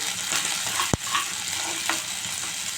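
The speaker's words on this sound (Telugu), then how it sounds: "అలాగే ఆనియన్ ఇలా వేసుకొని ఫ్రై చేసుకోవాలండి కొద్దిగా ఫ్రై అవ్వాలి" Onion frying in oil in a pan for a fish curry, a steady moderate sizzle with one sharp metallic tap of a utensil early on and a few soft stirring sounds.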